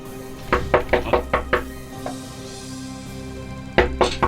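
Sharp knocks strike a door in two quick series of four to five raps, loud and close, with a quiet pause between them.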